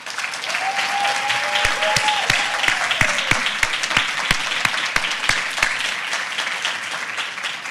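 Sustained applause from a closing-night film screening audience for the filmmakers, dense steady clapping with a few sharper claps standing out near the front and a faint tone sliding underneath.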